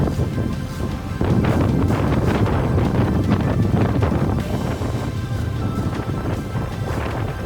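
Strong, steady wind buffeting the microphone of a bicycle rider on a cold ride toward Santiago de Compostela, a continuous rumbling roar with gusty bursts that swells louder after the first second and stays dense throughout, with no talking.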